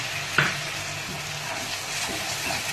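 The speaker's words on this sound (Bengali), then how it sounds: "অল্প জল দিয়ে এটাকে নাড়তে থাকলাম" A spatula stirs Pindi chana masala in a pan after a splash of chickpea cooking water goes in, making a soft, steady sizzle with occasional scrapes and one sharper knock near the start, with no talk.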